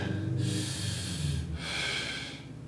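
Two long, forceful breaths, each lasting about a second, are drawn and pushed out close up while holding a wrist exercise, with no talking.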